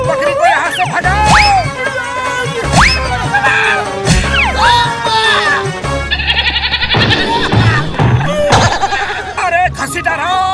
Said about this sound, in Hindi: इस बकरी को यहाँ से भगाओ।